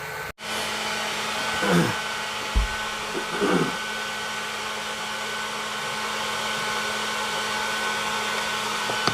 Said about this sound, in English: You'll see the change in the flame when I turn this air up